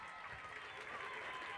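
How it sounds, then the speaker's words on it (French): Audience at a pony dressage award ceremony applauding, a short burst of dense steady clapping heard at a distance, fairly faint and continuous. "Vous pouvez les applaudir bien fort."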